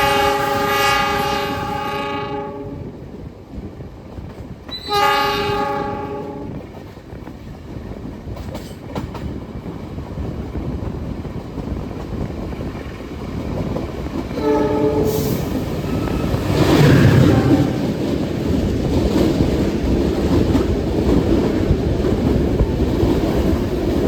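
Inside a crowded local commuter train with upright facing seats running from Surabaya to Yogyakarta, loud horn blasts sound twice early and once more later over a steady rumble and clatter of the moving carriage.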